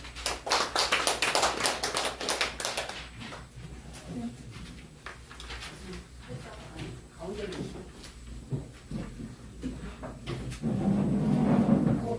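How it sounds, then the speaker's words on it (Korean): Audience clapping at a discussion meeting, a short round of close, sharp claps in the first few seconds, followed by scattered knocks and murmured talk in the room. "박수로 맞이해 주시죠"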